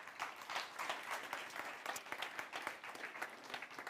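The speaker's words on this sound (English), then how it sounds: "Can we have applause?" Applause from a conference audience, a steady wash of many hands clapping at a fairly even pace for about four seconds with no talking over it.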